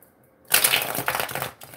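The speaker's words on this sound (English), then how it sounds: "And now I'm going to shuffle these two decks." Two decks of tarot cards are riffled together in one quick burst of papery flutter and snapping after a brief quiet moment, close and alone with no talking.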